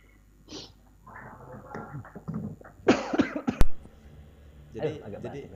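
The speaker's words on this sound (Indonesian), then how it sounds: "agak jadi batuk" A close cough or two breaks out between bits of speech, with a short sharp burst in the middle.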